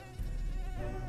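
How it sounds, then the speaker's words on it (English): A swarm of mosquitoes on the Pacific Crest Trail in the High Sierra buzzes close and continuous, a thin steady whine that begins abruptly and holds without pause. "The mosquitoes were relentless."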